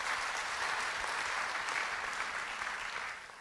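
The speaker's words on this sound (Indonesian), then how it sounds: "Yang mau beri tepuk tangan bagi Tuhan." Church congregation applauding, a steady wash of many hands clapping, fairly faint and distant, tapering off at the end.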